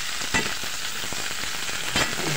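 Chicken feet sautéing in a hot pan give a steady, close sizzle and crackle, with a few sharper pops and stir clatters standing out over the continuous frying hiss.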